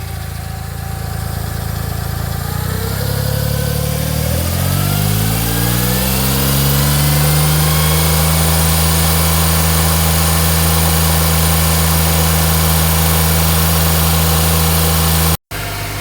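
A Smart car's small engine with a newly replaced exhaust idles, then revs up smoothly and settles into a steady, loud, even hum that holds for the rest of the clip, with no talking.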